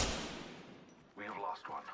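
Gunfire bursts in Apex Legends, a rapid crackle of shots at the start fading out, followed by a voice speaking over the quieter tail.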